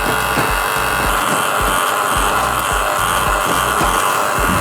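A GTM 56V cordless battery cultivator digs into garden soil, its motor whirring loudly and constantly while the tines thump and scrape through the earth in a rapid, rough rhythm.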